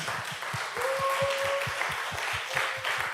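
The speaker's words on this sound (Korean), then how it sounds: "잘 다녀오라고 박수 한번 보내줍시다" During a Sunday worship service, a church congregation claps for a young man about to enter military service, a moderate round of applause over steady, rhythmic low thumps and a faint tonal line.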